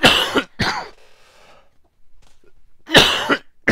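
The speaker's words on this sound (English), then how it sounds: "apologies, I had to cough." A person coughs close by in harsh bursts, two quick coughs, then a pause with a faint wheezy breath, then another hard cough.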